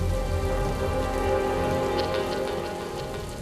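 Steady rain falls outside, a dense continuous patter and hiss on surfaces, loud and close, with no voices.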